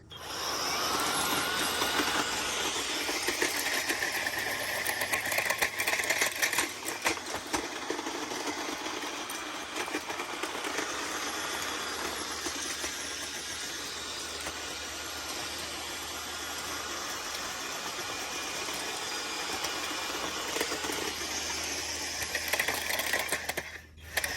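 An EGO CTA9500 battery cultivator tilling soil runs for a long stretch with a steady electric motor whine and churning, gritty scraping from the tines in the dirt, close up, with no talk.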